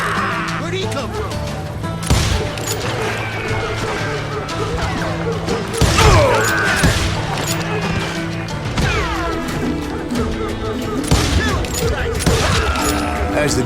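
Rapid gunfire in Call of Juarez: Gunslinger, repeated sharp shots and crashing impacts spread through a dense, loud battle mix, with voices shouting over the clatter.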